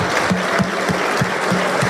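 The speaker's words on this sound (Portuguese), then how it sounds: "recebam com muito carinho, uma salva de palmas" An audience claps steadily at a real-estate forum event in Brazil, a dense, continuous applause that stays loud and even for the whole span, with no voices over it.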